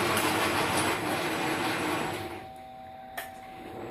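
An Ametek 30 electric motor runs at 13 volts with a steady whirring hum, loud at first and then easing to a quieter, thinner tone, with one small click near the end.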